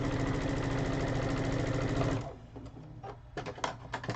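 A sewing machine stitches a baby quilt with a loud, steady mechanical whir for about two seconds, then stops, leaving soft handling clicks and fabric shuffling.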